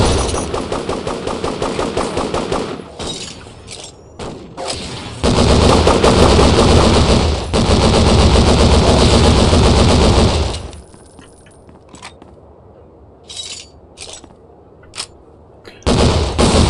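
Machine-gun fire in a video game rattles in loud rapid bursts, with long sustained volleys broken by brief pauses and then a quieter stretch of scattered shots.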